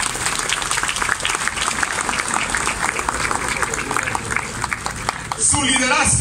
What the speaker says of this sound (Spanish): Un aplauso a nuestro gobernador